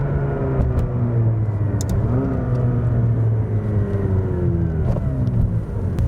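A rebuilt 2020 McLaren 570S engine revs on a test drive, its loud, close drone rising and falling as it shifts up from first gear, with a few clicks and bumps over the steady rumble.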